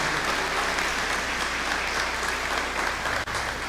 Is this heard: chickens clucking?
no